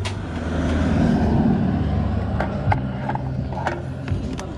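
Honda XRM 125 Fi motorcycle engine idling close by, a steady low mechanical putter with a few light clicks and taps over it.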